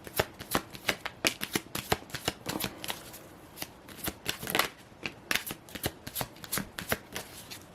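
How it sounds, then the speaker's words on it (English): Romance Angels and Soul Connections oracle cards are shuffled close by in a quick series of crisp riffling flicks and slaps, irregular bursts with brief pauses between. "I'm going to pull the Romance Angels Oracle and the Soul Connections Oracle cards."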